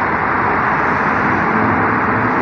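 Car traffic passing outside a house at night, a steady broad road rumble and whoosh from vehicles, continuous and fairly loud with no one speaking.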